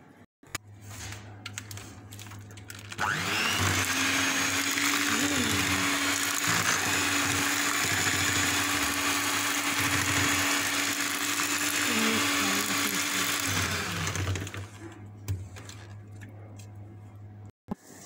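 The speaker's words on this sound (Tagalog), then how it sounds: "Dalhin natin yan sa mixer." An electric mixer beats orange cake batter made with flour, whirring loudly and steadily for about twelve seconds before spinning down, with light ticking and clatter around it.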